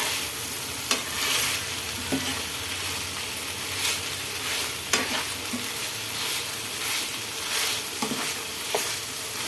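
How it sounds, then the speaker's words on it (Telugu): Steady sizzling of spices and onions frying in a hot pan with occasional sharp scrapes and clinks of a spoon stirring, close and continuous with no talk. "ఇలాగా మసాలా వేగాలి. ఉల్లిపాయలు కూడా వేగుతాయి."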